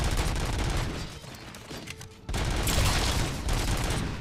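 Dense gunfire and explosions from a firefight in the video game RoboCop Rogue City, loud continuous bursts with a brief dip in the middle before the barrage surges back.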